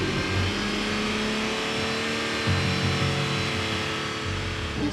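A car engine revs steadily and loudly at a roadside noise-level test, held near 4,500 rpm against a 90-decibel legal limit, a continuous droning roar with slight surges and no talking.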